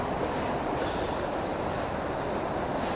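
A forest river at Kadappara, Kerala, rushes steadily with a strong current in a broad, continuous wash of noise, close and fairly loud, with no voices.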